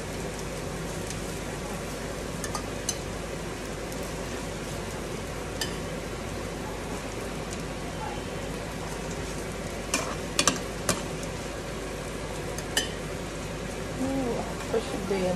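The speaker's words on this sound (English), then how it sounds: "So I have some olive oil. I don't need to wait until it's hot. I just go ahead and put the onions." Onions frying in olive oil for thiebou yapp curry, a steady dense sizzle and crackle running throughout with a few sharper pops near the end, no talk over it.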